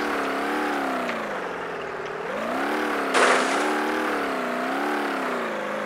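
A glitching car engine in BeamNG.drive revs in a continuous, wavering drone, its pitch rising and falling in slow swells, with a short burst of noise midway through.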